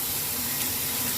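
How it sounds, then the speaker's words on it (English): Water from a tap splashes and runs steadily as a face is rinsed after shaving, a brief continuous hiss of flowing water close by. "Get rinsed off here."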